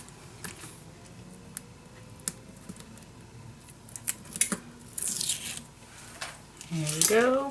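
Scissors snipping through paper while a mini album is made, a few faint, sparse cuts over quiet room noise, then a louder burst of rustling and cutting near the end.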